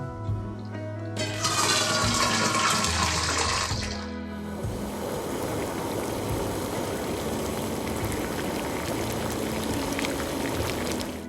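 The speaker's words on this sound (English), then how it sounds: "we're gonna put water here to boil for our pasta" Tap water runs into a cooking pot to be boiled for pasta, starting with a bright rushing stream that drops after a few seconds into a lower, steady fill that continues to the end.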